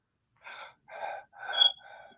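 Stress breathing through the mouth, panting: four quick, breathy gasps in a row, close and fairly quiet, each a short rasping burst of air separated by brief pauses, with no talking.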